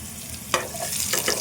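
Whole spices frying in hot oil in a pan as tempering for chicken curry: a close, continuous sizzle with a few sharp spoon stirs and scrapes, no voices.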